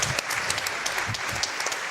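A small group claps in a steady patter of close, moderately quiet hand claps, with no talking over it.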